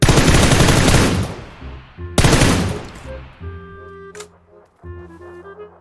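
Gunfire in PUBG Lite, with two loud close bursts of shots, each trailing off into echo, followed by a fainter shot and softer tonal game sounds.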